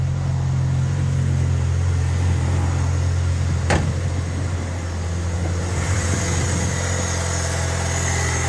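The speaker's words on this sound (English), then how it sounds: "the engine sounds absolutely wonderful, and that's obviously with the choke on at the moment" A 1985 Honda Accord's engine idles with the choke on after fresh fuel and a carburetor clean, a steady, close, low-pitched rumble with one brief sharp click midway, with no voices.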